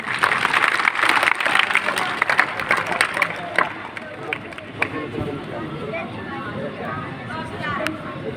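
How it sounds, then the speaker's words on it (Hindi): Crowd applause at the closing ceremony of an Arya Veer Dal training camp, a dense clapping patter that is loudest at first and then thins, with someone speaking over it. "बजाओ ताली।"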